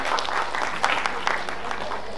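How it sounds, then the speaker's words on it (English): An audience at an international film festival session applauds, a dense patter of clapping with a few sharper claps standing out, steady and moderately loud throughout. "Can we please have a huge round of applause once again for sir?"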